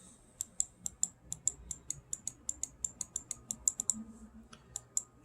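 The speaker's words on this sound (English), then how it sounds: "Can you hear me clicking them?" Xm1r gaming mouse buttons clicked in quick irregular succession, around twenty crisp close clicks with short pauses, alone against a quiet background.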